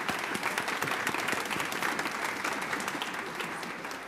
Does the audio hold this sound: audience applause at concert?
yes